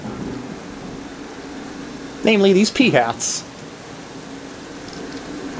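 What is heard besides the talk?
rain and thunder in video game Zelda: Twilight Princess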